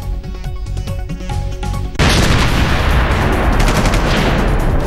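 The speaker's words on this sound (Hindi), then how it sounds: "सीमा पर जारी है नापाक हरकत। फिर रात भर हुई फायरिंग।" Gunfire exchanged at border posts along the Line of Control, starting as scattered shots and then bursting into loud, dense, continuous automatic fire that keeps going to the end.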